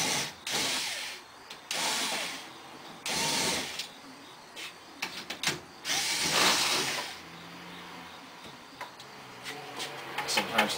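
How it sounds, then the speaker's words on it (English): A 1/4-inch nut driver spins screws out of a Dixie Narco DN 3561 24oz bottle rack in a vending machine: several short, loud whirring bursts up close, separated by pauses and small clicks. "Now I like to take my 1/4-inch nut driver, and I'm going to go ahead and just remove all the screws now."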